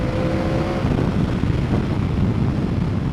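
A 2024 Yamaha R1M motorcycle ridden at speed, giving a dense, steady roar of wind rush and engine drone that stays loud and even throughout.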